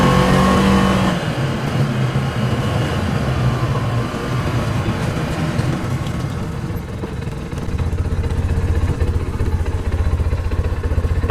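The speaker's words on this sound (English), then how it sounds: "Okay, time for driving test, 20 miles per hour." A Polaris RZR 570 UTV driving at about 20 mph, its engine a steady loud drone with rumbling road noise, a brief drop in level midway before the engine note firms up again, no voices.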